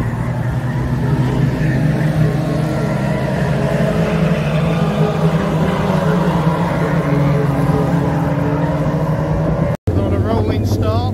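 Senior stock cars on a rolling start at Warton Stock Car Club drone in a steady, continuous engine roar, heavy low rumble with wind buffeting the microphone throughout, a brief dropout near the end.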